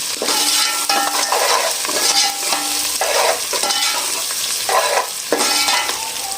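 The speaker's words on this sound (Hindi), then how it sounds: "मैं इसमें ये लहसुन अदरक डाल दूँगी, क्योंकि मुझे लहसुन अदरक भी ब्राउन करना है" Steady, loud sizzling of garlic, ginger and green chillies frying in hot oil, with occasional stirring scrapes and clinks from a utensil in the pan.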